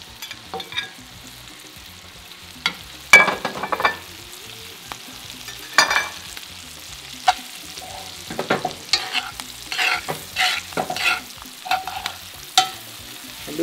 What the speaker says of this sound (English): I'm gonna add the shrimp in the corner.